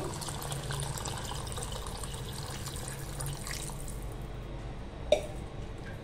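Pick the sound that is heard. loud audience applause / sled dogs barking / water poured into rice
water poured into rice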